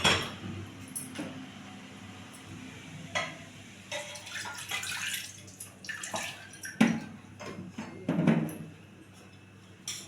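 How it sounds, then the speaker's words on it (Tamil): Hot water poured into a simmering tamarind curry (kuzhambu) in a pan, intermittent splashing and trickling in short bursts with light clinks and sizzle, close by and moderately loud, with no talk. "கூட இன்னும் கொஞ்சம் தண்ணி வேணும், தண்ணி ஊற்றிக்கும்."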